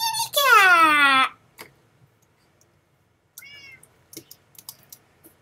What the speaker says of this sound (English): Oh, my kitty cat!